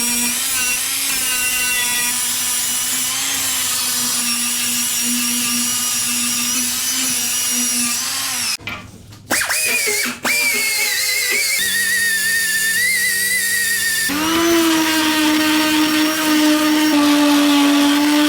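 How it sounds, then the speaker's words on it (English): Welding a patch into thin Volkswagen Beetle body metal, a steady electric buzz and crackle with a persistent tone, broken by brief pauses between runs before resuming. "the power is back on, so let's weld"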